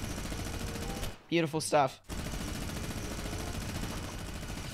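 Sustained rapid gunfire in Fortnite Mobile, loud and close, running almost continuously and broken only by a brief gap where someone speaks.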